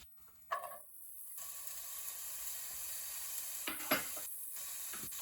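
Onions, carrots and squash sautéing in butter in a sauté pan, a soft steady sizzle with a couple of stirring clatters, quiet and close, no voices.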